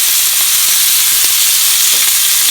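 Pork chops sear with butter in a hot skillet, giving a loud, steady crackling sizzle that runs unbroken throughout, with faint soft taps from stirring or moving the meat and no voices.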